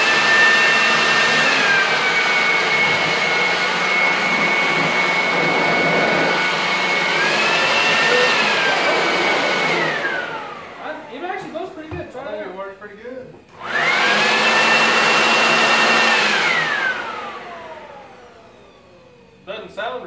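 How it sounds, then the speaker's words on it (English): A cheap Homelite electric leaf blower whines and roars up close in two long bursts of steady, high-pitched motor and air rush, spinning down between them while someone talks in the quieter gap. "it actually blows pretty hard for El Cheapo"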